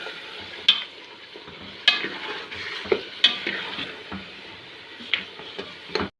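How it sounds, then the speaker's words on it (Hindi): A spoon scrapes and clinks against a pot while stirring ginger garlic paste into beef haleem, with a soft frying sizzle underneath; sharp metallic taps recur every second or so, close and clear. "थोड़ा सा चम्मच चला लेते हैं।"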